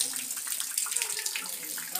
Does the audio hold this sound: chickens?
no